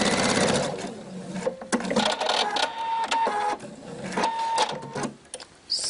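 A sewing machine runs close and steady along the seam of a Minikrea 70050 dolman dress with smocked elastic waist, its rapid stitching rattling continuously with small shifts in pace.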